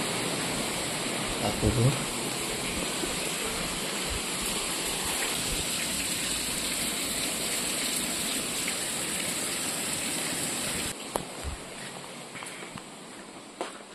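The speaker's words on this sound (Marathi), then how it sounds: "बाहेर ना प्रचंड पाऊस पडतो" Heavy rain pours outside, a steady, even hiss of falling water throughout, with a brief voice heard near the end.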